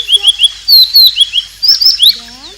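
A dove in a children's Sunday school retelling of Noah's ark, voiced by a bird sound effect: a quick run of bright, high chirps and tweets that repeat in short bursts, ending with a few rising whistled calls, close and clear with no talking.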